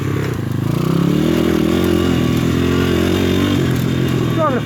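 A PitPro 140cc pit bike riding over rocky ground, its small engine loud and close with a continuous buzzing drone and wavering revs, plus rattling clatter from the terrain.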